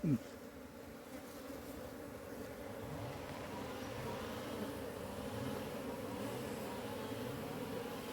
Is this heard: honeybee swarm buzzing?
yes